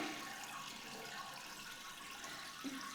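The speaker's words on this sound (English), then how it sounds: "I'm going to demonstrate for you how long it takes to flush" A toilet in a house in Haiti flushing slowly, a steady faint rushing of water that continues evenly throughout without a clear start or end.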